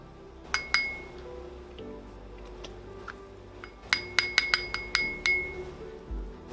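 Glass clinks sharply as peppermint essential oil is stirred into coconut oil. Two taps come first, then a quick run of about half a dozen bright, close strikes. A faint low rumble sits underneath, and no one speaks.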